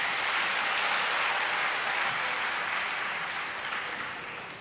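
An audience at a motivational speech breaks into broad, steady clapping that holds strong and then gradually fades over a few seconds, with no talking over it.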